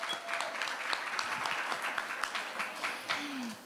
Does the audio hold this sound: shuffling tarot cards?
no